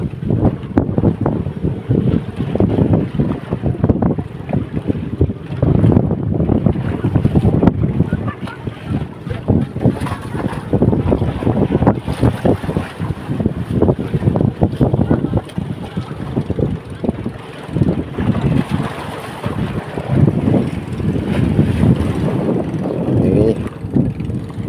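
A small outrigger boat pushes over waves in strong wind, with a steady engine-and-water rumble broken by gusty buffeting and slapping surges, loud and close throughout.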